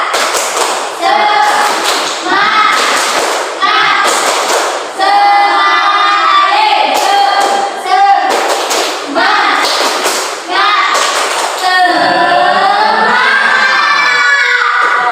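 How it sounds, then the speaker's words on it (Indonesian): A class of schoolchildren performs a rhythmic spirit clap, loud, regular bursts of clapping alternating with shouted chanted lines from the group, close and lively throughout. "Tepuk semangat"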